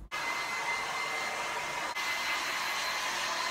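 A hair dryer blows on hair with a loud, steady whoosh that starts abruptly and runs without a break, apart from one brief dip.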